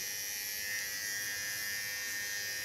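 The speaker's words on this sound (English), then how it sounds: "I'm going to fill in this side shave and nape shave." Electric clippers shave the side and nape of a head, producing a continuous close, steady buzzing hum that stays alone without talk.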